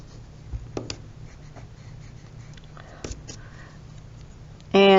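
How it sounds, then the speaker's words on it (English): A marker scratches faintly up close on a pumpkin, drawing oval eyes for a jack-o'-lantern face in short strokes. A voice breaks in loudly at the very end. "So I'm just going to draw some oval eyes."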